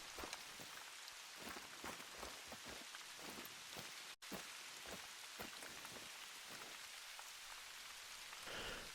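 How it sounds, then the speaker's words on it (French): Steady rainfall in the hunting game theHunter: Call of the Wild, a dense hiss of drops pattering on surfaces with scattered louder splats, continuous throughout with one brief dropout. "Là, je me réveille dans le jeu, il mouille encore."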